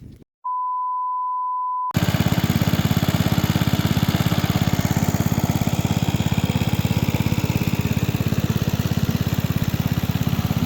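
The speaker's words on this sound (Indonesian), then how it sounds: "Jadi saat ini mesin sudah dihidupkan ya." An engine runs at a fish pond at night during harvest. A short steady beep gives way to a loud, close, continuous engine drone with an even rhythmic pulse that holds unchanged to the end.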